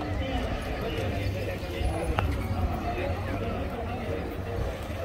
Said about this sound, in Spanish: Quieto, caballo.